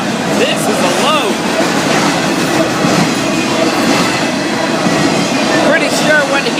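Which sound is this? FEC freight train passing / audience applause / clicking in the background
FEC freight train passing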